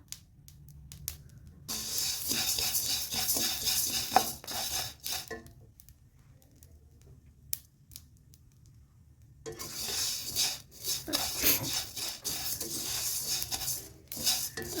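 Whole spices dry-roasting in a pan for pickle masala, stirred with a spoon, giving bursts of scraping and crackling that stop and resume, close and moderately loud, with no talk.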